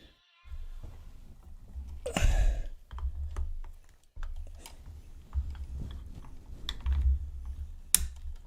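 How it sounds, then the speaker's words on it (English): Fingers type on a computer keyboard during a live stream, producing quiet, irregular bursts of close keystroke clicks with brief pauses between them. "My keyboard."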